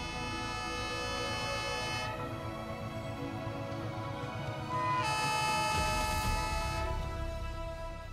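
Train sound with a sustained horn blast over rolling rail noise, steady and moderately loud, swelling near the end, no talking.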